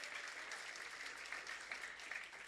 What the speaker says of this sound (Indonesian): Tepuk tangan dulu dong buat Tuhan.